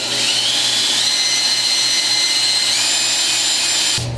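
A tool roughing up a metal bearing bore during bearing setup work, a steady high-pitched whine with grinding hiss that holds at one level for about four seconds, close and loud, then stops abruptly.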